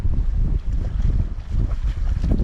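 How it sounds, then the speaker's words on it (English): Heavy wind on a mountain top at Binevenagh, County Londonderry, buffets the microphone in low, rumbling gusts that surge and dip throughout, loud and close with no voices. "Very, very, very windy up here."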